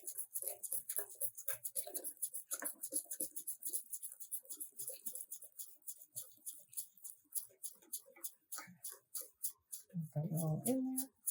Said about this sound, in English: I'm sure to whisk fairly vigorously.